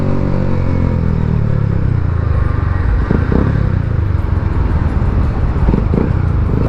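Yamaha Sniper 150 motorcycle fitted with a Gori pipe exhaust, running loudly and close by, with a continuous rough engine rumble and a few sharp clattering bursts as it revs.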